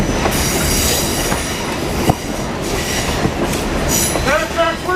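A passenger train rolls along Erie Railroad track first laid in the 1860s, a steady close rumble of wheels with rhythmic clicks and brief high squeals near the end.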